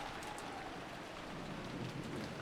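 Steady rain pounds down in the video game Umineko, a dense continuous hiss at low level with no talk over it.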